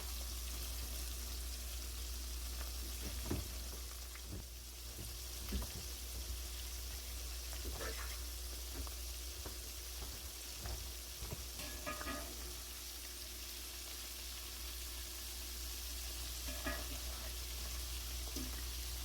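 Keto chicken nuggets fry in shallow grease in a crowded pan, a quiet steady sizzle with occasional soft clicks and bumps as pieces are moved, under a low background hum.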